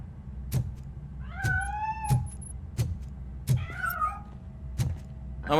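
A cat meowing in the RoboCop Rogue City video game, a few clear rising meows near and loud over repeated thudding footsteps or clanks, with no speech.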